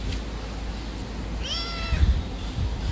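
A pet cat gives a single short meow close by, over a low background rumble, with no talk.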